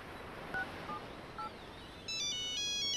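A mobile phone starts ringing with an incoming call in a Telugu film scene; a few short electronic beeps come first, then a bright melodic ringtone plays steadily and fairly loud near the end.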